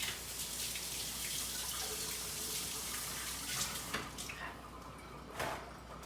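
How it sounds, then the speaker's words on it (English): Water runs steadily from a sink tap while hands are rinsed, a continuous close splashing wash with a few brief louder splashes near the end. "I'm gonna just run over to the sink really quick to just rinse off really fast"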